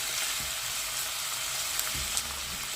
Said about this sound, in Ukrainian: І це все на великому вогні обсмажуємо трішечки з морквою